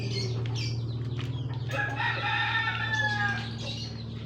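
Large semi-Brahma chickens on a small farm, a rooster crowing loudly and close with clucking hens around, over a steady low hum.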